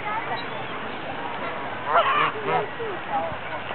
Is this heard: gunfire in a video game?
no